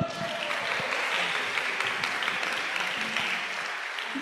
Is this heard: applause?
yes